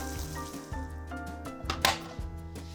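Pumpkin with agave syrup cooking in a pan on the stove gives a soft, steady sizzle with a few louder crackles, set under tonal background music.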